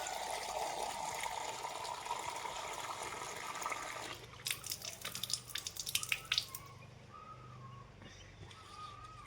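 Water poured from a container for a visiting chameleon at home, a steady splashing trickle at first that gives way to a few scattered drips and small splashes, close by and fairly quiet.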